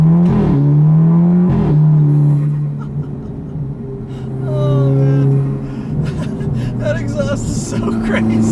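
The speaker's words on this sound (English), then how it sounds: "One last little acceleration." A tuned 2009 Audi TTS with APR Stage 2 upgrades accelerates hard, its engine note climbing loud and close, then easing off before building again, with a person talking over it.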